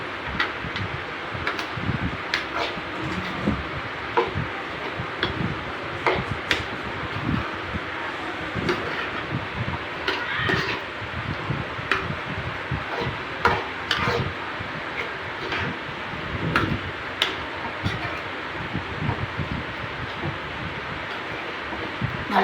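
Madurai mutton fry masala stirred in a pan, a steady close sizzle with repeated scraping and clattering strokes throughout, loud and continuous with no voices.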